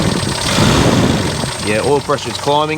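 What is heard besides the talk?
Suzuki Feroza engine revving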